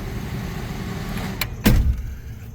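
A 1982 Jeep Wagoneer power window motor whirs steadily at close range, ending with a short thud as the glass seats, then a quieter hum.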